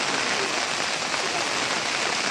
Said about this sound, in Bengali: বৃষ্টি খুব ভালো হচ্ছে